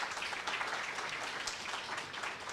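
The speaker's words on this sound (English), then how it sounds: "Please give Mr. Mako another round of applause" Faint, steady applause rolls from an audience at a university orientation day, a distant, even patter of many hands clapping with no speech over it.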